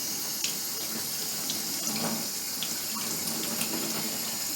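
A sweet potato with its skin on being rinsed under a running kitchen tap, a steady close splashing stream of water into the sink with small irregular spatters as the tuber is turned.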